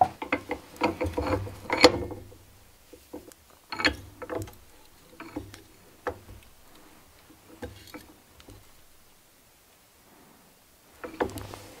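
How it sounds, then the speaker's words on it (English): An arbor press presses a tight-fitting part into a mini Harley-Davidson-style V-twin engine piece, heard close as a series of metallic clicks, ratcheting knocks and creaks with quiet pauses between. "I'm just going to try to press it in with my arbor press here"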